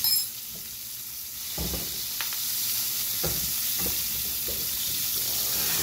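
A steak sizzles steadily in a pan while being basted, a constant frying hiss with occasional soft spoon scrapes and clinks against the pan, close and even throughout.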